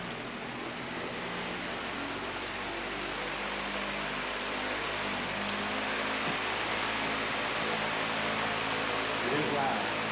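A replacement AC blower motor in a Ford F250 runs as a steady, fairly loud whooshing roar inside the cab, mixed with engine and road noise, while someone talks over it.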